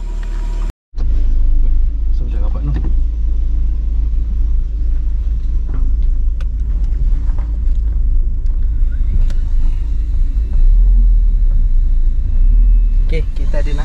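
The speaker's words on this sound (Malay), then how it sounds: "jom kita naik kereta" A car on a road trip in Malaysia drives along with a steady low engine rumble and road noise that persist throughout after a brief dropout near the start.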